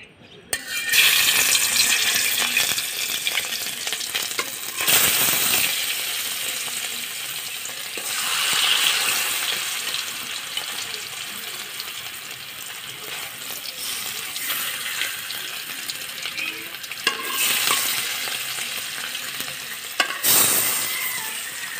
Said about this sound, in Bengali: এখন 5 মিনিটের মতো সুন্দর করে এপিট ওপিট করে লাল করে ভেজে নেব রুই মাছের টুকরোগুলো